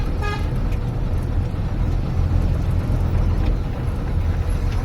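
Vehicle horns toot repeatedly over loud, steady road traffic rumble in a stalled jam where a vehicle has overturned ahead, one sharp honk standing out near the start.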